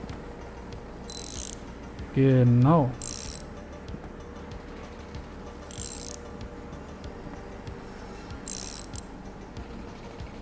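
Ratchet loosening screws in the video game Bus Mechanic Simulator, short bursts of bright clicking repeated every couple of seconds, with a brief spoken word early on.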